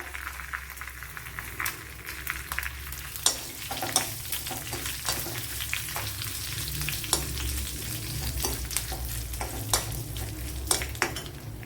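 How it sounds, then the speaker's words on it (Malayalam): Dried red chillies and curry leaves frying in hot oil for a dried fish curry, a dense crackling sizzle with rapid sharp pops and spatters throughout, close up and with no voices. "ഇനി രണ്ടു മൂന്ന് വറ്റൽമുളക് കൂടെ ഇട്ട് കൊടുക്കാം"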